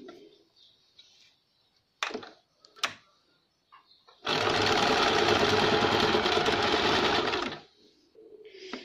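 A sewing machine stitches the back side of a baby frock in one steady, loud run of about three seconds, preceded by brief clicks and handling noises of fabric and machine parts.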